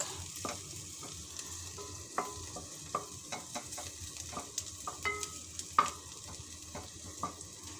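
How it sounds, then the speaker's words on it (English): Onion and garlic, with lemongrass added, sauté in a pan, giving a soft, steady sizzle with repeated scraping stirs and light clinks, close and quiet. "as I'm like sauteing it, it will add fragrance as well to the onion and garlic."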